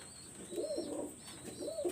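Pigeons coo softly in a loft, giving repeated low rolling calls over faint background hiss.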